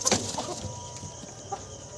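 Native hens settled in their coop at night give a few soft, close clucks and rustles, with one sharper call at the start, over a quiet background.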